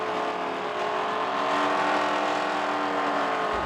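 Drag racing car at a drag strip, a loud sustained engine roar with rising pitch as it accelerates, heard alone and steady throughout.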